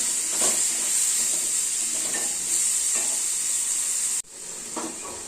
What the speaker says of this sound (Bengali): চিংড়ি মাছটা দিয়ে একটু ভাজা ভাজা করে নেব